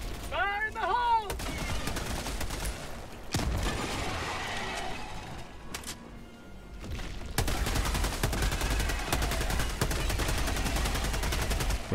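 Gunfire in the Helldivers 2 video game: dense bursts of automatic fire and repeated shots fill most of the clip, loud and close, with explosive booms mixed in.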